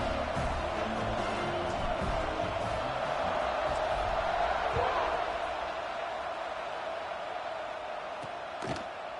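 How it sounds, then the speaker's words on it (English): A stadium crowd in a football video game buzzes as a continuous murmuring roar, with a sharp thud near the end. "this crowd is buzzing after that last score"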